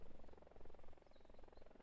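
Scout helicopter in a Vietnam War combat game set at Ia Drang, its rotor giving a steady, pulsing drone with a faint engine whine, fairly distant and continuous.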